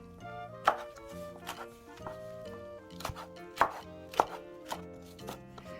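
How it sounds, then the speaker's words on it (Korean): Fresh Korean seaweed (miyeok) chopped into rough bite-sized pieces with a knife on a cutting board, a series of irregular sharp knife thuds over a low background hum, no talking. "먹기 좋은 크기로 듬성듬성 썰어줍니다"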